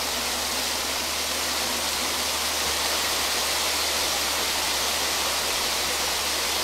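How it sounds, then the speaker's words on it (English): Loud, steady roar of a waterfall in the video game Fable II, a dense unbroken rush of falling water filling the whole clip with no speech. "I had to move my headset a little bit because the waterfall was so loud."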